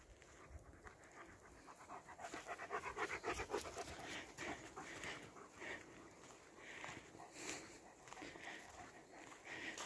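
Rapid, breathy panting from a dog after a run, close and continuous with a steady rhythm, swelling slightly in the middle, with faint shuffling movement around it.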